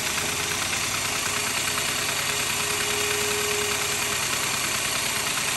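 A Honda UT3 120 quarter midget racing engine idles near 1200 RPM during a timing check, giving a steady, rapid mechanical putter with a constant close drone and no voices.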